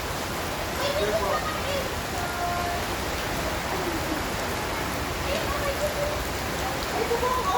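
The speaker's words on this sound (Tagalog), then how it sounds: "Ulan." Steady rain falls on a road trip, a dense wash of drops with faint tonal sounds drifting through, under low murmured voices in the background.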